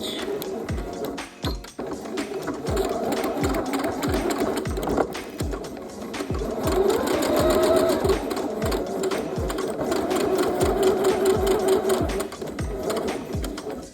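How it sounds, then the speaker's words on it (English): A sewing machine stitches a 5/8-inch seam on a denim dress. It runs steadily and loudly for about fourteen seconds, with a rapid, even needle rhythm and brief pauses and restarts. "we're just gonna stitch at 5/8 of an inch all the way down that area that we pinned"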